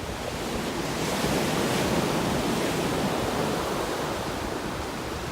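Ocean waves breaking along the Shipwreck Coast of Olympic National Park, a continuous loud roar of surf with gentle swells in intensity and some wind across the microphone, no voices.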